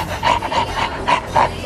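A person imitates a dog's bark with about five short, rhythmic yapping bursts, close and fairly loud, with no other speech.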